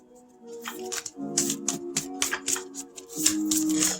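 Tarot cards shuffled by hand, dry hands making a series of crisp riffling and flicking bursts, close and fairly loud, with a low steady tone underneath.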